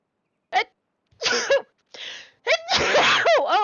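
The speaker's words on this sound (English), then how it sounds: "Oh, I have to sneeze." A single person sneezes at close range, with breathy gasps and a catch of breath leading up to the sharp burst, then a short vocal sound after it.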